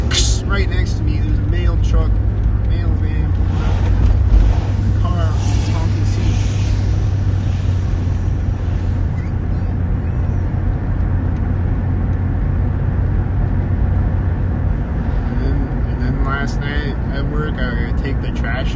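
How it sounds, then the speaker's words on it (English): A mail truck rumbles steadily close by with a constant low engine drone, traffic noise filling the background throughout. "Right next to me, there's a mail truck, mail van"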